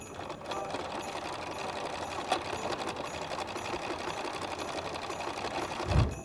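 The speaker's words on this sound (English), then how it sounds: "I'm just going to sew back and forth a couple of times" A sewing machine stitches back and forth along a fabric edge, its rapid, even mechanical chatter running continuously and close by, with a brief soft thump near the end.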